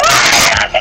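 A shrill, piercing scream in the horror game Dead by Daylight, one short loud burst.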